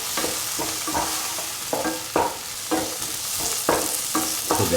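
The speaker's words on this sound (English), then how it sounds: "Keep on sauteing the tomatoes. Crush the tomatoes once in a while" Tomatoes sautéing in a pan for eggplant fried rice, with a steady sizzle broken by regular scraping and pressing strokes roughly every half second as a spatula crushes them, close and fairly loud.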